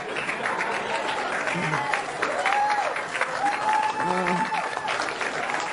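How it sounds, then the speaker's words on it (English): Comedy club audience at a live stand-up show applauding steadily, a dense wash of clapping with voices and laughter mixed in throughout. "I love how you applaud for domestic violence."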